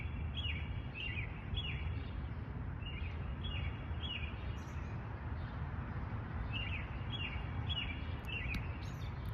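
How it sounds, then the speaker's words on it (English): Birds chirp in short repeated bursts in Salem, clustered at the start and again near the end, over a steady low rumble of background noise. "The birds sound beautiful."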